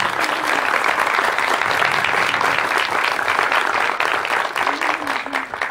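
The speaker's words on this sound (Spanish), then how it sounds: "Fuerte el aplauso." A crowd at a civic event gives sustained applause for a youth group, thick continuous clapping at moderate volume that thins slightly near the end.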